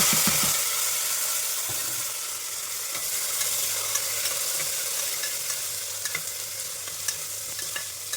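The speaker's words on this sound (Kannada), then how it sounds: "ಇವಾಗ ನಾನು ಆನಿಯನ್ ಹಾಕ್ತಾ ಇದ್ದೀನಿ" Onion frying in a pan for tomato bath, a steady dense sizzle with stirring scrapes throughout, close and fairly loud, with no talking.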